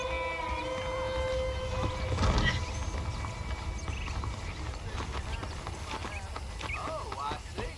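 Horse hooves clip-clopping in the Western video game Red Dead Redemption, a steady rhythmic trot over a low background hum, with a brief louder rumble partway through and a few faint whinny-like calls near the end.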